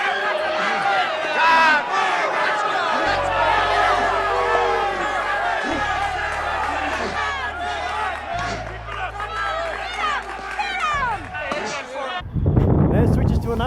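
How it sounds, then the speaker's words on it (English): A boxing crowd in a Rocky film scene heckles, boos and jeers, with loud overlapping shouts and yells filling the space above a low sustained tone, ending in a sudden burst of noise. "Then the crowd's heckling him, booing him, jeering him"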